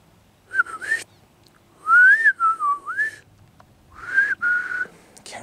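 A person whistles short, wavering notes in three bursts with gaps between them, close and clear against a quiet background.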